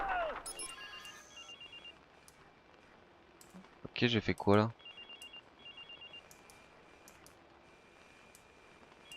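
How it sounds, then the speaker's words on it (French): A phone rings in the Watch Dogs video game, a short burst of bright electronic ringing amid clicks and game ambience, with someone speaking French briefly over it. "notre sœur elle va répondre au téléphone"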